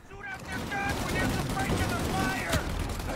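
A minigun spins up and fires continuously in the crime game Mafia, a steady mid-distance roar of rapid shots running beneath game sounds and faint talk.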